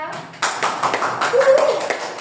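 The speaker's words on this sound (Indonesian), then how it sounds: "buat sekali tepuk tangan untuk Deska" Students in a classroom give a brief burst of clapping for a classmate, a few quick taps with a voice talking faintly underneath.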